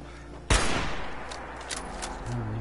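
One sharp, loud shot from a gun in Fallout 76 cracks close by and then fades into a low rumble, with faint further pops afterward.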